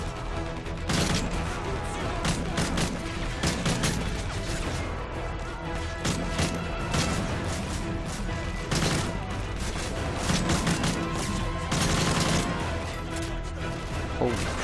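Rapid gunfire in Call of Duty: Modern Warfare 3, with dense bursts of shots and crashing impacts that go on almost without pause, mixed with game noise.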